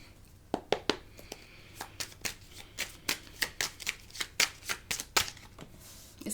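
Tarot cards being shuffled by hand, a quick run of crisp riffling snaps and flutters in an uneven rhythm, close up and alone.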